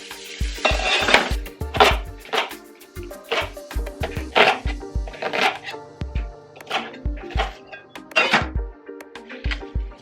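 Half an onion goes into a hot pan and crackles under a run of busy utensil knocks and scrapes, with pan sizzle swelling and fading between the strikes, close and fairly loud.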